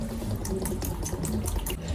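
One liter of water being poured into a container while making whitening shower gel, a steady close splashing and bubbling stream that continues throughout with no talking.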